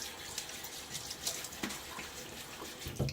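Tap water runs steadily into a bathroom sink while a face is wetted before a wet shave, a soft continuous splashing with a few louder spatters near the end, close and alone without talk.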